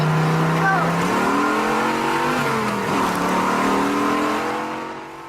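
A car street racing on a public road revs hard as it speeds, a loud sustained engine drone with rising and falling pitch; the engine note eases and fades slightly near the end, with no speech.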